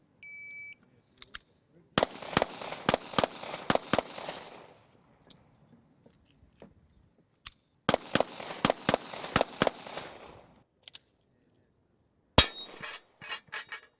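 Sharp gunshots at a shooting competition with a metal target ring out in two rapid volleys, each lasting a couple of seconds, with scattered single shots and a final ragged burst, sharp and loud against quiet pauses.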